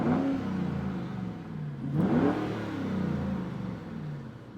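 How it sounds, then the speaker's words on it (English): A car engine is revved as the accelerator is pressed, climbing and falling in pitch through a few surging revs, loud and close, with no talk. "If you can press that accelerator, you can rev it."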